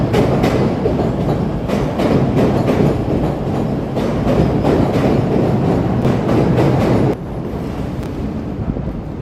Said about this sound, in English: Here comes an L train that's on the upper level there.